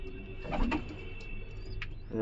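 An aggressive giribaz pigeon makes a faint, low, warbling coo that stands out briefly against quiet room noise, with no talking.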